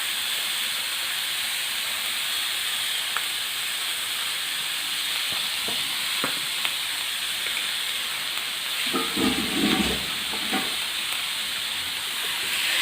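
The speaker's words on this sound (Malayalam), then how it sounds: "നമുക്ക് ഇതിനകത്തേക്ക് കഴുകി വാരി വെച്ച കരളിട്ട് കൊടുക്കാം." Beef liver frying in masala in a Kerala-style pan fry: a steady, bright sizzling hiss with faint stirring scrapes, and a brief louder burst of crackling and stirring near the end.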